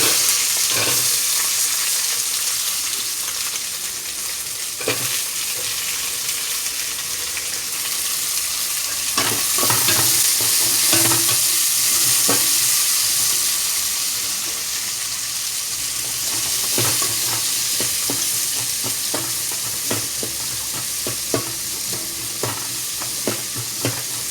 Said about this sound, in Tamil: இப்போ வந்து வெங்காயம் போட்டுக்கலாம் ஒரு மூணு பெரிய வெங்காயம் கட் பண்ணியிருக்கலாம்